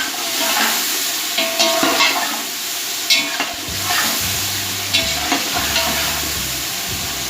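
Whole spices with black pepper and crushed nutmeg roast in a pan for chicken pulao, giving a steady close sizzle with a few scraping stirs and clinks over about seven seconds. No one speaks.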